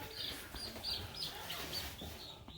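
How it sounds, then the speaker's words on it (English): Chickens, a mix of roosters and hens, cluck and chirp in short repeated calls at close range in a farm setting, with faint background activity. "Got a mix of roosters and hens."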